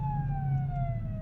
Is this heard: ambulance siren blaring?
yes